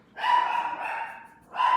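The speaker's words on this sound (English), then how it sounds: "And my dog is going crazy." An excited dog barks in two loud, sustained bursts at close range, the first long and the second starting after a short pause.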